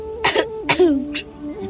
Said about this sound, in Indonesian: tiba-tiba ibunya batuk dan sesak napas.